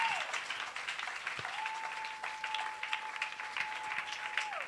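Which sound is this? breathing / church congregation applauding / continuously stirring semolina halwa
church congregation applauding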